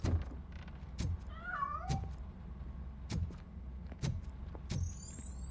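A cat in the game RoboCop Rogue City gives a short meow and a few squeaky calls as it escapes, amid a steady low rumble and repeated sharp thuds roughly once per second.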